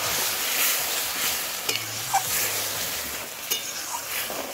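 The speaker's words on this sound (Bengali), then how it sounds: "এখন আমি মশলার যে জলটা ছিল সেটা দিয়ে দেবো।" Spice water poured into a hot frying pan sets off a steady, loud sizzle and bubbling hiss, with a few sharp pops and spatters along the way and no talking.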